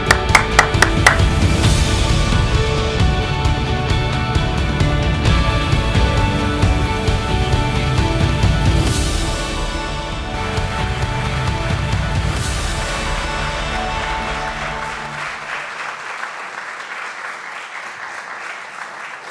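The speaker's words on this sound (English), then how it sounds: "let's show it right now by joining in a hearty applause" A large convocation audience gives hearty applause, loud, dense and sustained, with a few cheers, then thinning and fading toward the end.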